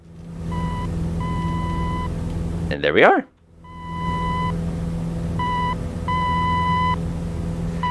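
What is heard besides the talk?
navigation radio station beeps in Microsoft Flight Simulator video game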